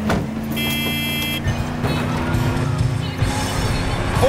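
A car in Battlefield 4 rumbles along with a low engine hum under clattering mechanical noise and a brief whining tone, loud and close, with no clear speech over it.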